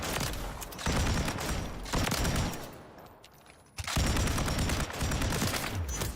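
A light machine gun with a 100-round magazine fires in Warzone, giving loud, sustained rapid bursts. A brief lull comes midway before the next long stream of close, dense shots.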